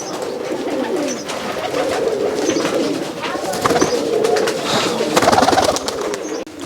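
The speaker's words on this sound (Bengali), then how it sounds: "এই কবুতরগুলো আপনার মূলত হাইফেলাই কবুতর" High flyer pigeons coo steadily in a loft, a soft overlapping murmur of several birds close by, with occasional wing rustles and clicks.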